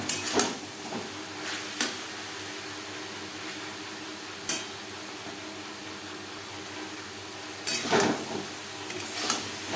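Red amaranth greens (lal shak) fry on a high flame in a pan to dry out their water, a steady soft sizzle punctuated by a few distinct spatula stirs and scrapes.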